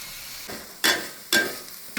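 A spoon stirs a home-cooked dish in a pot, making a few distinct scraping strokes at an uneven pace over a soft sizzle, close by with no talking.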